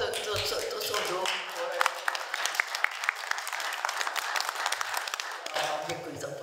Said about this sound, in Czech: Děkuji za potlesk.